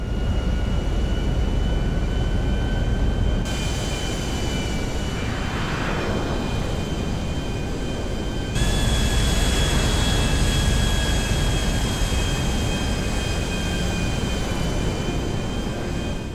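Vestra airplane engine in flight in the video game GTA V, in rain, gives a loud, steady jet roar with a constant high whine, unbroken and alone for the whole stretch, with one abrupt shift in tone midway.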